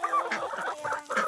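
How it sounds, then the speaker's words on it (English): A rooster on a homestead clucking, a short run of close, throaty clucks in quick bursts. "It's a rooster"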